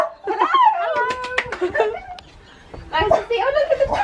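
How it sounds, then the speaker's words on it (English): A dog whimpers and yips in high, wavering tones close by, mixed with people talking over it, the sounds coming in two bursts separated by a short quieter gap. "Oh, look at the gorgeous doggy."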